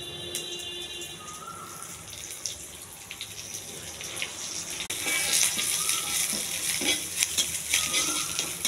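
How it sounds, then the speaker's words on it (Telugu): Cumin, mustard seeds and curry leaves frying in a little oil make a sizzle that swells noticeably louder halfway through, with crackling spatter and faint stirring; no speech is heard. "కరివేపాకు కొంచెం బాగా ఎగించాలండి"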